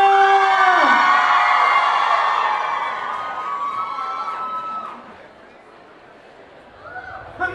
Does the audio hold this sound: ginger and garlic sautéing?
no